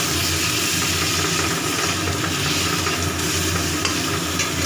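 Steady, dense sizzling of potatoes and taro frying in a hot pan, close and continuous with no talking.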